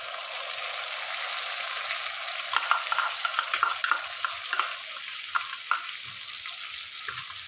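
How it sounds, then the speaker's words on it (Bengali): A paste of mustard, tomato and green chilli with onions, salt, turmeric and a little sugar sizzles in a pan for a fish curry, with steady frying and a run of scraping stirs and clinks midway. "এটা দিয়ে আমি ঠিক 2 মিনিট মতো কষাবো, বেশিক্ষণ কষাবো না"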